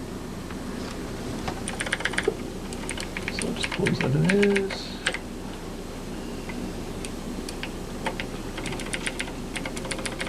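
Scattered bursts of soft keyboard clicks throughout, with a brief spoken phrase partway through, at a computer convention.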